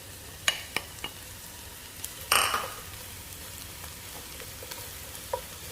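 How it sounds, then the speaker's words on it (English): Sliced mushrooms cook in a little butter in a preheated pan, a faint steady sizzle broken by a few soft clicks and one brief louder crackle, close and quiet. "just let them cook and brown in your preheated pan"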